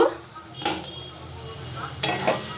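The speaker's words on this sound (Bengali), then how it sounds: "ঢাকনাটা একবার একটু খুলে দেখব।" A lid lifted off a cooking pot of simmering bread filling, with a metallic clink and then a brighter clatter, heard over a faint sizzle on the stove.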